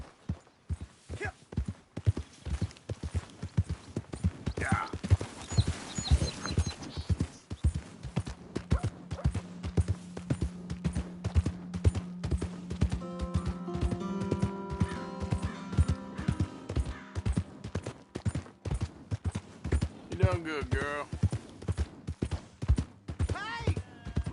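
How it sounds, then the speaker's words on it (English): Horse hooves clip-clopping in a video game, a steady rhythmic trot of sharp thuds running throughout, with a brief whinny and a voice speaking over it partway through. "Hey! My horse!"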